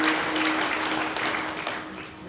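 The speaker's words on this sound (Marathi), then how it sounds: "म्हणून एकदा जोरात टाळ्या होऊ द्या." A kirtan audience claps steadily and loudly, a continuous wash of applause that slowly fades toward the end, with a faint hum underneath.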